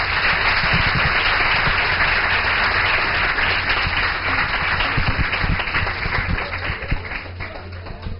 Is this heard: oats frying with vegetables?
no